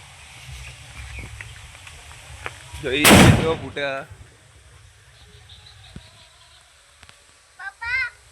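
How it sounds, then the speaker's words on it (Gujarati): A single loud sutli bomb firecracker blast bursts out and crackles briefly, followed by a few sharper pops and faint chirps against a quiet outdoor background. "આ છે હુતડી બોમ્બ"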